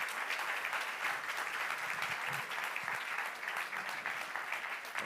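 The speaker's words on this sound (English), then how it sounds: "A round of applause, please" A summit audience claps together in a steady, dense round of applause that holds evenly throughout, fairly close and without pause.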